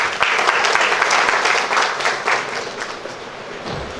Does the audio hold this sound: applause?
yes